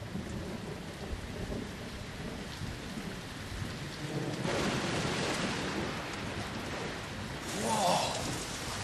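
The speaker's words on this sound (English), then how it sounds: "A big storm's coming" A thunderstorm with steady heavy rain, a low rumble of thunder swelling midway and another roll near the end.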